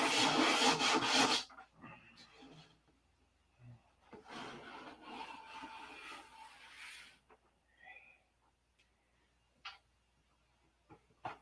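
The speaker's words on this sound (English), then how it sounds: "Anywhere there's a shiny spot, keep sanding until the shiny spot is gone." Sandpaper is rubbed over the clear nose glass of a P-47 model in two bursts of scratchy strokes, the first louder, followed by light taps and small handling sounds.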